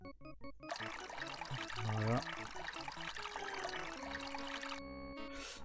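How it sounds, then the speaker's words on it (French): Water running from a tap in the video game Maniac Mansion Deluxe, a faint continuous pouring rush layered over chiptune music and tones, with a brief spoken word. "Donc, utiliser le robinet là."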